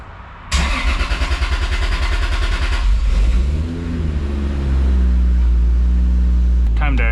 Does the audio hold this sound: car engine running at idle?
yes